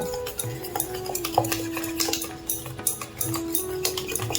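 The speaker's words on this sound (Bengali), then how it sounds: "এবার আমরা দইয়ের সাথে মশলাগুলোকে ভালো করে মিশিয়ে নেব।" A spoon stirs ground spices, biryani masala, coriander powder and salt, into yogurt in a bowl for veg biryani, giving quick repeated scraping and clinking strokes against the dish with a steady rhythm, close and clear.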